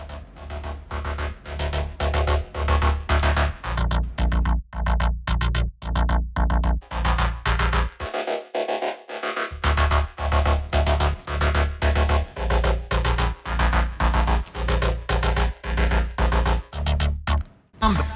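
Synthwave synth basses and lead played together in Bitwig Studio, a loud pulsing pattern of rhythmic stabs with a brief dropout of the low end midway and a cut near the end.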